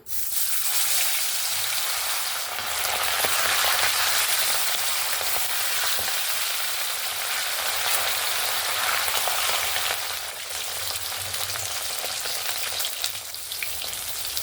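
Chela fish frying in hot oil in a wok, a steady, loud, close sizzle and crackle that holds throughout with no talking.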